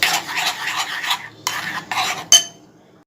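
Milk and milk powder stirred in a pan on a medium gas flame for instant mawa, brisk repeated scraping strokes of a utensil against the pan in bursts, close and fairly loud, ending with a sharp metallic clink and then quiet.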